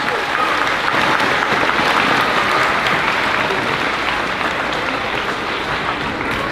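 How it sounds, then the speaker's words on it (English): Applause from the audience at a fifth-grade moving-up ceremony at Birchwood, a dense, steady crowd clapping that holds at full strength throughout with no break. "Let's give them a round of applause."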